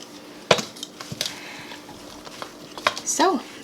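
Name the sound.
tossing Brussels sprout Caesar salad with Parmesan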